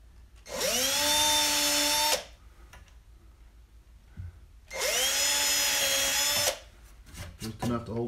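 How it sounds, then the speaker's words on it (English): A power drill whirs in two loud bursts of about two seconds each, drilling guide holes into a wooden stud plate, separated by a quiet pause, followed by some faint clattering. "I drill my two quick guide holes."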